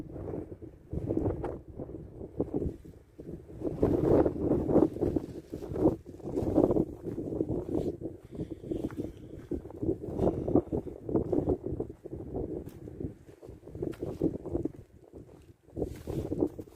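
Strong wind blows outdoors in uneven gusts that buffet the microphone with low rumbling bursts, rising and falling throughout with no speech.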